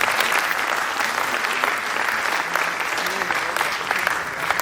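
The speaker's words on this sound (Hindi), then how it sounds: "सबसे पहले चाहूँगा कि मुंशी प्रेमचंद के लिए एक बार" An audience at a stage drama performance claps for Munshi Premchand, a dense sustained burst of applause that fills the whole stretch, with a voice talking faintly underneath.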